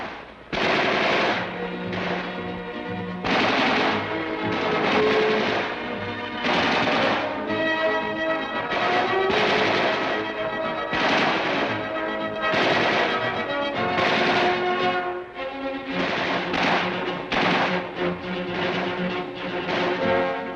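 Sustained bursts of infantry weapons fire on a military firing range with new weapons, dense overlapping cracks and machine-gun rattles forming a near-continuous loud barrage with brief gaps.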